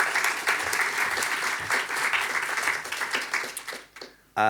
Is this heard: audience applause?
yes